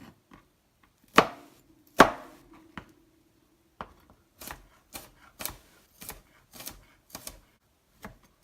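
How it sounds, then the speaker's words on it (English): A knife chopping garlic finely on a cutting board: a series of sharp, close taps, two louder thuds early on and then a steady run of lighter, fairly regular chops, with no talking. "And then I just chop it as small as I can."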